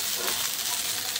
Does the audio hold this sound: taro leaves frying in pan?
yes